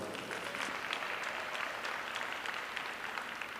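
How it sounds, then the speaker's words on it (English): A crowd at a county fair livestock show claps steadily at a moderate distance, a soft even patter of applause that neither builds nor fades. "Let's go ahead and give them one more round of applause,"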